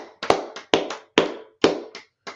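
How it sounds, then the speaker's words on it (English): Several crisp, close hand claps ring out separately in a loose, uneven rhythm, with no talking. "Y'all enjoyed this class, clap it up"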